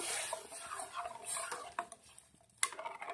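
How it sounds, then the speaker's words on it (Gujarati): A spoon stirs a watery Rajasthani sev usal mixture of peas and red chili sauce in a pot, making faint sloshing with light clinks and scrapes against the metal, quiet and close with no talking. "સરસ મજાનું મિક્સ કરી લેશું"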